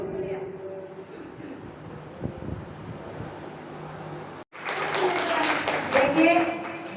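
Audience clapping at a Shiv wedding celebration in a Bhiwani Shiv temple, dense and steady, broken by a brief gap, then louder and fuller applause.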